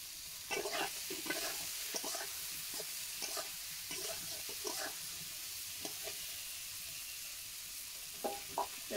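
Parsi fish curry masala with yam stalk fries in a pan: a soft continuous sizzle with repeated close spoon scrapes and stirring clacks at an irregular pace.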